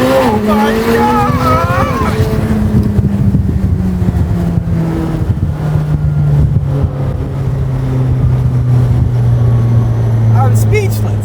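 A 2022 McLaren 765LT Spider launches under launch control, its engine roaring loudly and rising through the gears in a long, hard acceleration, with excited voices over the engine noise.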